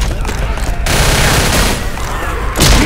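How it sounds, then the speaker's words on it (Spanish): Loud shotgun blasts in Left 4 Dead, a couple of heavy booming shots with sustained noisy gunfire between them, close and dense. "Bueno, voy a utilizar escopeta"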